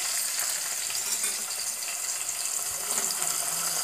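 Ingredients sizzle in hot tempering oil in a home kitchen, a bright, steady crackling hiss that runs unbroken and fairly close, with no talk over it.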